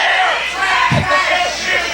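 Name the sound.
wrestling crowd jeering a wrestler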